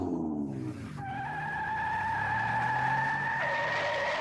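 A car peels away with a sharp tire squeal and skid, the rubber shriek rising and holding as the engine pulls off, loud and close with no talking.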